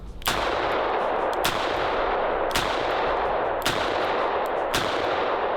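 Chiappa Rhino revolver fired at a range, five sharp loud shots spaced roughly a second apart over a steady background rush, with no talk.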